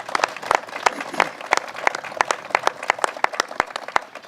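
A crowd claps in a round of applause, dense overlapping hand claps with sharp individual slaps standing out, steady and lively throughout.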